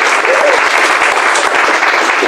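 An audience at a speech wishing exam candidates success bursts into loud, dense clapping that fills the whole short stretch, a continuous close wash of hands with no voices over it.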